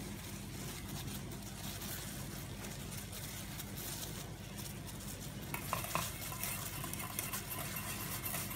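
Flaxseed and aloe vera hair gel being stirred with olive oil, almond oil and hot water, a steady wet scraping and swishing that runs throughout with a few louder knocks near the end, and no talking.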